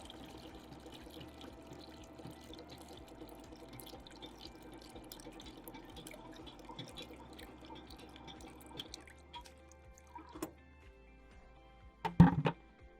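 Sanitizer drains from a Taylor 341 machine in quiet, steady trickling drips, then a few louder splashes and clatters near the end.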